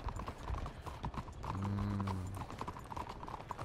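Donkey hooves clip-clop steadily in Red Dead Redemption 2, a close, even walking rhythm across the whole stretch, with a low rumble of game ambience rising briefly midway.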